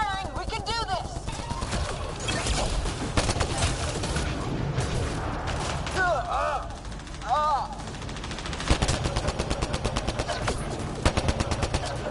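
Gunfire rattles in the video game Mass Effect during a fight against synthetic enemies, rapid repeated shots and bursts coming close and loud, mixed with whistling, warbling effects and other battle noise.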